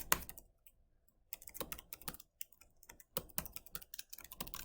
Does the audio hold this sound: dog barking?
no